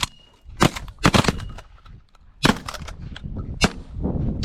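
Shotgun blasts fired at pigeons during a hunt: several sharp, loud reports spaced irregularly, two close together early on, then two more separated by quieter outdoor background.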